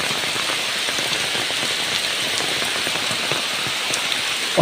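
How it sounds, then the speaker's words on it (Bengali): Heavy rain in Bogura, Bangladesh pours steadily and loudly onto surfaces, a dense, unbroken hiss of drops with no voices. "দেখেন কি পরিমাণ বৃষ্টি হইতেছে"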